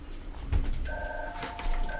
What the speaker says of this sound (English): Uh-oh, phone's ringing.